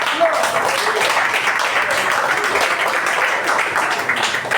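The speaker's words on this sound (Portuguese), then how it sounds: "Bate as palmas de vitória bem alegre para Jesus." A church congregation claps hands together in dense, continuous applause-like clapping filling the room, steady and fairly loud, with voices faintly mixed in.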